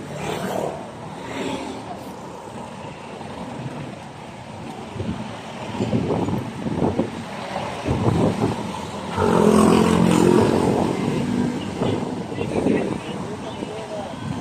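Wind blows at a beach under a dark, stormy sky, buffeting the microphone in gusty rushes over distant surf, with a stronger gust toward the end and a person talking throughout.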